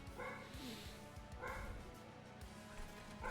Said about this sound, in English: Oh, the doggo is barking.